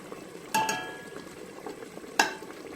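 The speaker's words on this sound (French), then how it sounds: "Et il faut toujours touiller." A spoon stirs spiced butter in a cooking pot over low sizzling, with two sharp metallic clinks of the spoon against the pot standing out clearly against the soft frying hiss.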